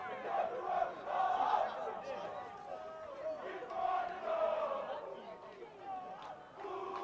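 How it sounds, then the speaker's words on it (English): Schoolboy crowd behind the goalposts at a rugby league match chants and sings in a rising and falling group chorus, heard at a moderate distance under commentary. "You can hear the crowd behind the western goalposts from Kelston boys breaking the song."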